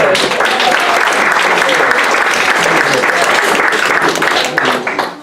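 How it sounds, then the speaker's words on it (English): Sustained applause from an event audience for a choir's uplifting opening performance, dense steady clapping at full volume throughout before beginning to thin out right at the end. "And we should give them another round of applause."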